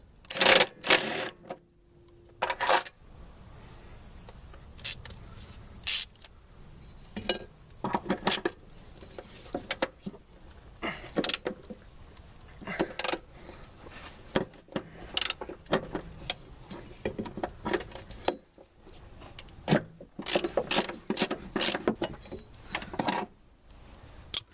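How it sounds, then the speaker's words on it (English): Rapid bursts of ratcheting clicks from a ratchet backing out the long bolts of a rear upper control arm on a Honda Accord, close and repeated in short irregular runs with pauses between, no talking. "Now we're going to zip these bolts out from back here."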